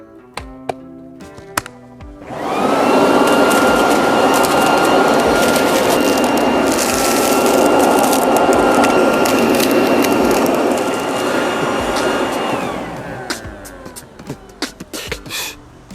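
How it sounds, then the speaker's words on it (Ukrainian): A Vitals garden vacuum in vacuum mode: a loud, steady motor roar starts up, runs evenly for about ten seconds, then winds down, with crackly debris sounds through it. "Тепер переходимо в режим пилососа."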